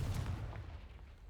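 A Confringo fire spell in Hogwarts Legacy lands as a quick series of faint, muffled booms and cracks at the start, followed by a short fading rumble.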